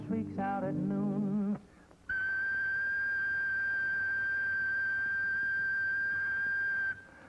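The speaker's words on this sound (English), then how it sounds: "I'm a factory whistle that shrieks out at noon." A steady, piercing factory whistle from a 1937 film, produced as a sound effect, shrieks on one high tone for about five seconds after a brief burst of singing, then cuts off abruptly.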